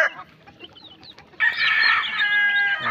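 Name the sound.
hungry pet chicks at feeding time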